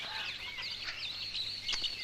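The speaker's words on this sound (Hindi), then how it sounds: "ये मुर्गे बेचोगे क्या?" Chickens, including roosters, clucking and chirping softly in a small group, brief overlapping calls that are faint and a little distant over a low background hum.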